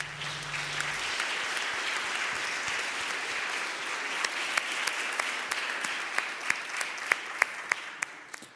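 Church congregation applauding after a choir sings a song, steady clapping that builds into sharper, louder individual claps toward the end, with no talking over it.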